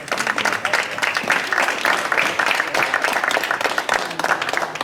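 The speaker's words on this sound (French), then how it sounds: "vous pouvez applaudir" An audience applauds at an evening event honouring football journalism: dense, crackling clapping from many hands that holds steady for about five seconds, with faint voices mixed in.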